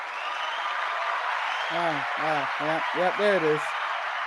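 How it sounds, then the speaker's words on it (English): A studio audience applauds at a talk show, a steady, fairly quiet patter that runs throughout while someone speaks briefly over it. "The only applause this show will ever get."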